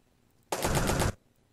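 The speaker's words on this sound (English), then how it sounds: "there's a video for a character from Cerebral doing a punch" A fighting-game punch sound effect for a character from Cerebral, a single dense burst lasting about half a second, loud and abrupt, standing alone against near silence.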